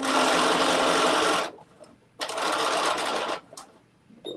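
A sewing machine stitches a bucket hat piece in two loud bursts separated by a short pause, the second run ending in a brief backstitch.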